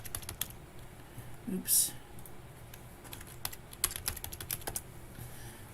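Fingers type on a computer keyboard in quick, irregular bursts of close, light clicks, with a brief louder clack near the start and a single short spoken word.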